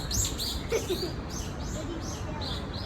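Small birds chirp in a third-floor rooftop garden, with several short, bright calls coming in quick bursts over a steady background hum.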